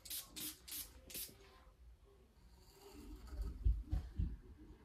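Four quick hissing sprays from a perfume spray bottle at the start, close and bright, followed by low handling rustles and soft thumps.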